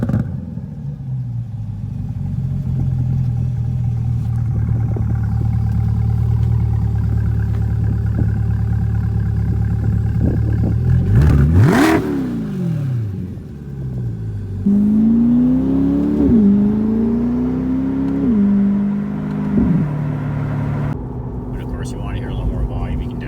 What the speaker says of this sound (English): The exhaust sounds beautiful in this car.